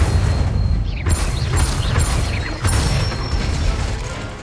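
Hogwarts Legacy spellcasting as the Incendio fire spell strikes a training dummy, a loud, dense run of magical bursts and whooshing impacts with sharp crackling hits in quick succession.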